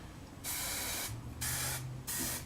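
Three short hissing bursts of hairspray from an aerosol can, close and loud, separated by brief pauses.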